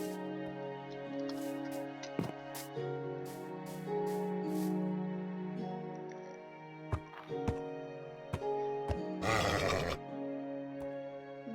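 A horse whinnies in Minecraft, a brief wavering neigh near the end, heard over steady game music and scattered clicks.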